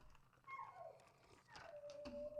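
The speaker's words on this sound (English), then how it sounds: "By the way, I also found out that that's my dog." Pet dog Pluto howls and whimpers indoors in faint, drawn-out whining cries that slide downward in pitch, one after another, with no one speaking.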